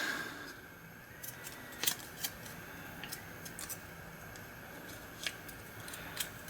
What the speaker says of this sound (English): just cut it out with a pair of scissors